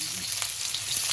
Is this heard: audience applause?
no